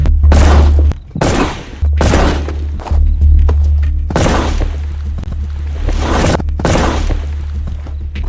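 A sniper instructor fires gunshots right beside volunteers during sniper training, producing several heavy, booming reports spaced unevenly, each loud and close with a short decaying tail over a low steady hum.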